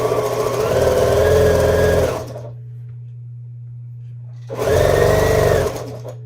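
A sewing machine stitches quilt pieces with butted, unironed seams, running loud and steady in two bursts of about two and four-fifths of a second and a second and a half, with a low motor hum continuing through the pause between them.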